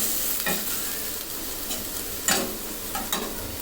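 Liver frying with spices in a pan, stirred in scraping bursts over a steady close sizzle, with a few sharper scrapes standing out, no talking.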